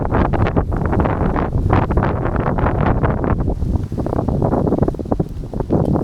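Strong autumn wind at Hullvann Lake in Norway buffets the microphone in loud, continuous gusts, with rumbling low roar and fluttering bursts throughout and no voices.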